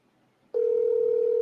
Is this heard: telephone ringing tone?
yes